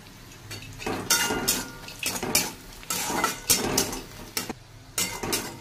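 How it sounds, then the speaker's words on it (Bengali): Onions and green chillies fry in a pan, with repeated metallic scrapes, clinks and stirring knocks coming close and fairly loud, a faint sizzle beneath, and no talk. "এই দেখো পেঁয়াজগুলো একটু ভাজা হয়ে গেছে, এবার কাঁচা লঙ্কাগুলো দেবো।"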